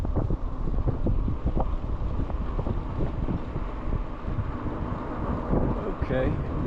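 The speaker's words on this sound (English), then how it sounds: "Little bit blustery." Blustery wind buffets the microphone outdoors on a creekside greenway beside wetlands in Charlotte, NC, a steady rumbling roar that runs throughout, with a person speaking faintly beneath it.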